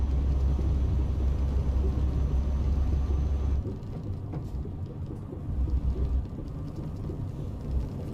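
Heavy truck rolling over a gravel road in Euro Truck Simulator 2, a steady low rumble and crunch that is loud for the first few seconds, then drops to a softer, continuous gravelly roll with no talk.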